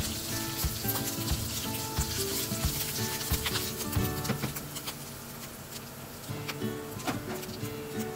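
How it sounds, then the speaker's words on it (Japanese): Chili flakes and garlic stir-fry in hot oil in a pan for vongole bianco, a steady close sizzle broken by scraping and rubbing stirs throughout. "香りが出るまでざっと炒めます"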